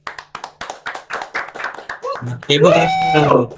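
A few people clap in a steady rhythm at a poetry contest event, then a voice speaks loudly over the clapping as it continues.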